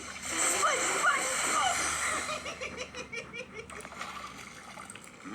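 Cartoon steam engine splashing through a muddy rainwater puddle: a burst of splashing and splattering water at the start, tapering into scattered drips and sloshes, with a voice and light laughter mixed in.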